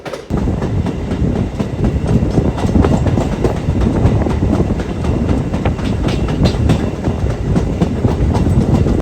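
An electric train on the Banihal to Baramulla line in wintry Kashmir rolls steadily along with continuous loud rumble and rhythmic clickety-clack from the wheels, heard from on board with no talk.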